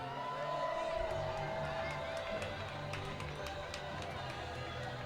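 Baseball fans at a minor-league game cheer and shout as a crowd during a mascot race, a steady, dense roar with scattered whoops and claps that holds throughout.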